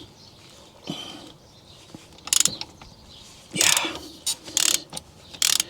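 Ratchet tightening a brake caliper bolt on a 2003 Volvo XC90 D5, giving several loud, close bursts of quick ratchet clicks with pauses between them, and a brief spoken word.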